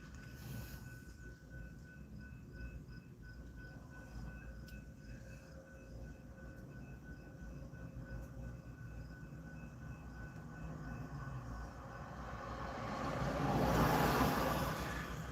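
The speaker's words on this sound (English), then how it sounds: "Train is down there making some moves." A train shunting in a rail yard gives a continuous low rumble and rolling drone, heard from a distance and swelling louder near the end, with no voices.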